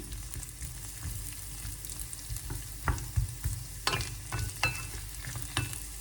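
Garlic and cashew nuts fry lightly in a pan, a soft steady sizzle broken by repeated spatula scrapes and clinks against the pan, close and fairly quiet, with no speech.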